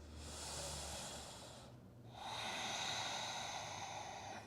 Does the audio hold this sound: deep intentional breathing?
yes